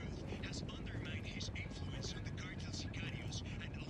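A helicopter in the video game Ghost Recon Wildlands drones steadily with a dense, continuous rotor and engine roar, loud and unchanging throughout.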